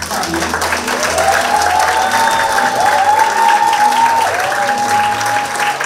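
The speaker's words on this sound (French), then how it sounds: "Mesdames et messieurs, sur vos applaudissements." Audience applauding performers at the close of a 2024 stage show, steady loud clapping throughout with some crowd noise and faint voices or music tones drifting over it.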